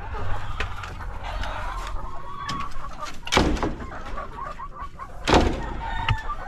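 Hens in battery cages on a small egg farm cluck and murmur steadily, with a few sharper squawks and clatters standing out over the continuous flock noise.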